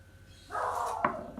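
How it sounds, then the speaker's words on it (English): A dog barks agitatedly in the background of a home kitchen: a short, fairly faint burst of barking with one sharper yelp near the end. "Sorry about the dog, it's having a bit of a paddy at somebody."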